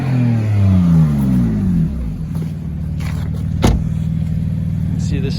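Engine of a 2017 BMW M3 Competition Package with a branded title, revving with a rising, falling whine and then settling into a steady rumbling idle, close and loud, with a brief clatter partway through.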